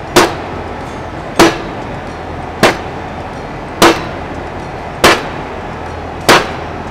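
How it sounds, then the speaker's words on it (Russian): A rubber mallet strikes a pane of tempered glass six times at an even pace of roughly one blow every 1.2 seconds, each hit a sharp, ringing clack inside a glass factory, with no talking. "Попробуем резиновой киянкой."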